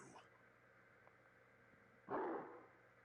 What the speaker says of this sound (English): I heard something bark.